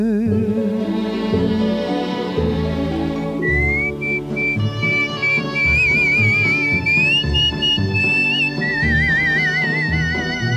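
A person whistles a lively melody loudly and close by, with sustained wavering notes and trills carried over a steady musical accompaniment.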